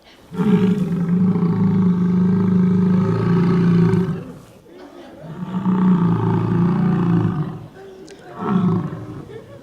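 Deep, rumbling bellows from a large male bison, three long roaring calls separated by short pauses, loud and close.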